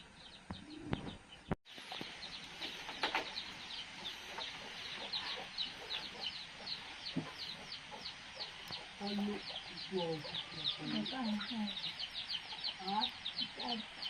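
Many birds chirp and cluck in a busy, continuous chorus, with hens clucking nearby and quiet voices murmuring underneath.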